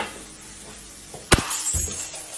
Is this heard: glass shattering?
yes